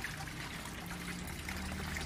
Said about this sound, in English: Okay, the first gutter is already flushing.